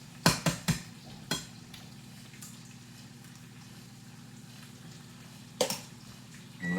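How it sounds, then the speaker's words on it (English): Eggs cooking in a pan with spinach for a low carb breakfast, a soft steady sizzle with a few sharp clinks of a utensil against the pan at the start and again near the end. "Let them eggs kind of cook as well in that spinach."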